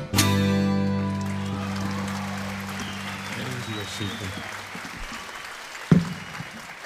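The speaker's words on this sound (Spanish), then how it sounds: "Se ganó otro aplauso el señor." Audience applause fills a live concert by a Colombian carranga band, loud at first and slowly thinning out, with a sharp clap or thump near the end.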